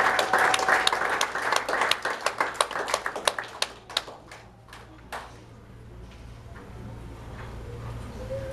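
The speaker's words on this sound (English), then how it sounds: "So give it up for all of our queens one more time." An audience at a pageant applauds its queens: loud, dense clapping with sharp individual claps that thins out over several seconds and fades into quiet room tone.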